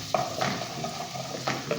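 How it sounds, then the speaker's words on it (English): Steady broadband sizzle of chicken frying in a pan, with a few soft clinks and scrapes of a utensil stirring, no voices. "So fry this until it's golden brown."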